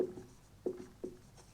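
Chalk or marker writing on a board during a maths class, a few short scratchy strokes spaced apart against a quiet room background.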